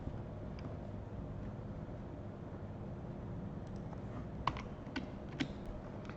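Keys on a computer keyboard are tapped quietly, with soft, scattered clicks over a low hum that become slightly more distinct toward the end.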